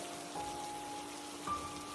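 Soft, steady patter of light rain, faint and even, with a couple of thin tonal hums in the background and no voices.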